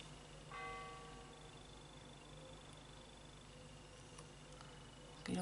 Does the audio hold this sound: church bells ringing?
yes